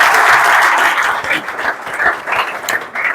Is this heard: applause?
yes